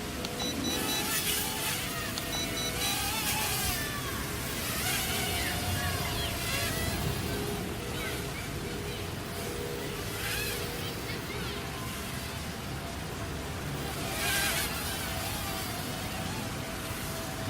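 An IDrone Yizhan i4W WiFi FPV quadcopter, a fairly heavy drone, flying outdoors in wind: a steady, dense motor and propeller whine with roaring wind buffeting throughout, rising slightly during fast maneuvers.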